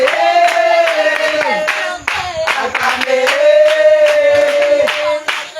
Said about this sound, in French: Acclamez, acclamez, acclamez, acclamez